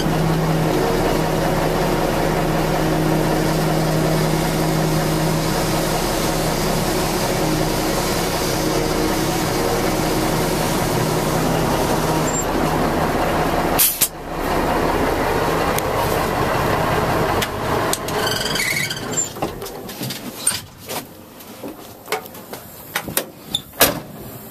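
A 1979 Ford 9000 dump truck lowers its bed: a long steady engine and hydraulic drone runs evenly for over ten seconds, then gives way to a sharp clank and a series of uneven knocks and rattles as it settles.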